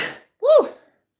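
A person with a cold sneezes once, a short sharp burst with a rising then falling voiced cry, close and loud, with no talk around it.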